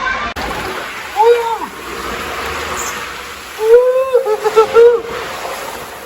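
Rushing water and splashes as a rider slides down a tall water slide on the cruise line's private island, Ocean Cay, with two bursts of turbulent water and a voice shouting over the spray.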